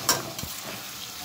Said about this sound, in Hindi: अब मुझे थोड़ी देर इसको चलाना है।